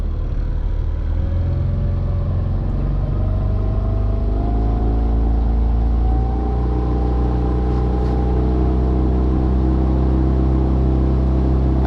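Outboard motor on a boat fishing the Pechora River, with the motor set at a middle position, running steadily and loud with a constant droning rumble and slowly shifting engine pitch, no voices over it.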